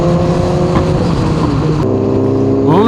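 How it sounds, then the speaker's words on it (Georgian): A large group of motorcycles rides together, engines roaring in a dense continuous drone with overlapping pitches, a shift near the end as one bike revs up, loud and close. "ამდენი მოტოციკლეტის ხმაური"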